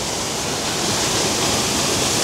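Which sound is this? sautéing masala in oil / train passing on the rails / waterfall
waterfall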